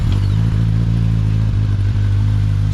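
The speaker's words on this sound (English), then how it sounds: "Before we get the stock exhaust system off this thing, let's fire it up, show you what it sounds like" A Suzuki GSX-S 1000 F motorcycle idles on its stock exhaust with a steady, low, even engine rumble. It sounds close and continuous, with faint clatter and no talking.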